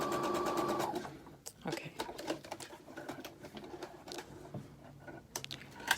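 A sewing machine runs in a steady fast whir for about a second while stitching a faux fur leg warmer, then stops, leaving handling clatter and a brief spoken word nearby.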